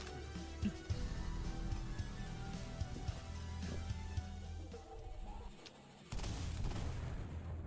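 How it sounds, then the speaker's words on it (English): Low rumbling blasts and booming thuds from an explosion in the video game Cultic roll through a noisy, dense mix, with a louder crackling burst near the end. "just wait for that explosion to clear"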